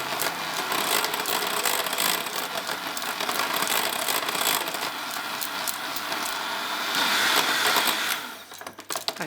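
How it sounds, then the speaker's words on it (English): Cream being whipped to stiff peaks for profiterole filling, a steady, dense mechanical whirring that runs loud and continuous for about eight seconds before cutting off near the end. "you just need to whip this until it's stiff enough to hold its shape"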